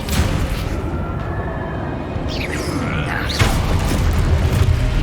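Repeated Confringo blasting spells in Hogwarts Legacy burst over a dense, loud wash of combat noise, with whooshing spell effects and rumbling impacts layered continuously through the scene.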